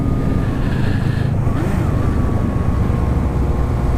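Suzuki Bandit 250 motorcycle engine pulling hard at high revs, a loud, close, sustained whine with pitch sweeping as it climbs through the gears and heavy low rumble underneath.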